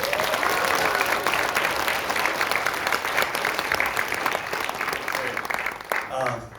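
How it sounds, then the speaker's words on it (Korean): Sustained applause from an assembly crowd approving bylaws, loud and steady throughout, fading slightly toward the end with a brief pause near the close. "찬성하시면 박수를 보내주시기 바랍니다"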